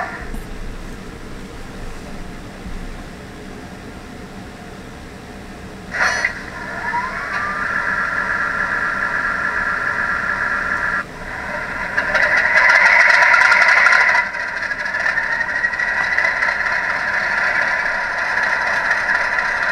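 A Class 50 diesel locomotive, 50040 Leviathan, starts up with a steady mechanical hum, then a sharp clunk and a rising whine, and a second clunk as the engine note grows fuller and louder.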